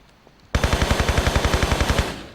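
Rapid automatic gunfire from a higher-powered weapon in Tomb Raider 3: about fifteen evenly spaced, loud, punchy shots in one sustained burst after a brief quiet lead-in.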